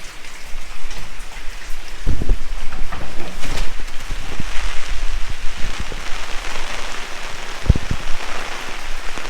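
Heavy rain pours steadily outside an old mansion, a dense continuous hiss with scattered louder drops and splashes close by, and no voices.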